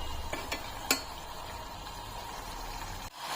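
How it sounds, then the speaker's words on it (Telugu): Mushrooms fry in a pan with a low, steady sizzle, broken by a few light scrapes and clicks from stirring early on. "ఈ నీరంతా పోయేంత వరకు మనం ఫ్రై చేసుకోవాలా."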